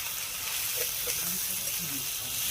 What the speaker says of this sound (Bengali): চিংড়ি মাছ ভাজা হচ্ছে কুচো চিংড়ি